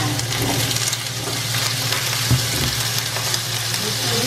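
Potatoes hit a hot pan of chicken pastel and sizzle loudly and steadily up close, with a soft stirring bump partway through and no voices.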